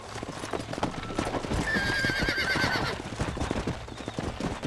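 A horse neighs in Red Dead Redemption 2, a clear rising whinny in the middle over steady clip-clop hoofbeats, with faint game sounds beneath.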